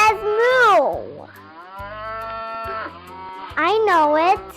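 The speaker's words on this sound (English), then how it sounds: "What animal says moo?" A cow on a farm moos in three loud, drawn-out calls, with a simple backing tune playing underneath.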